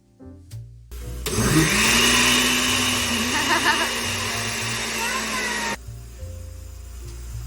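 A blender whirs loudly and steadily for about five seconds, blending a chickpea smoothie, starting with a sharp rise and cutting off abruptly, with quiet kitchen sounds before and after.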